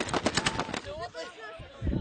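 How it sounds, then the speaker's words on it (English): War footage of rocket fire striking a suicide bomber's bulletproof vehicle: a rapid string of sharp, loud blasts and gunfire, then a fading rumble and a further burst, with voices underneath. "But rocket fire brings his charge to an end."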